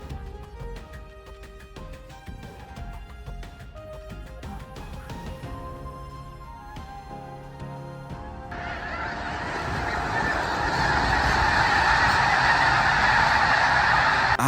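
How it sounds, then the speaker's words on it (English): A large flock of snow geese honks continuously in flight, a dense chorus of overlapping calls that swells louder and broader over the final seconds. "snow geese fly back to the North Pole"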